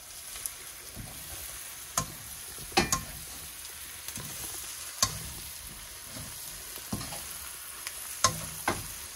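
Fried eggs stirred into a frying curry in a pan, soft steady sizzle with occasional sharp spoon scrapes and knocks against the pan, close and fairly quiet, no voices.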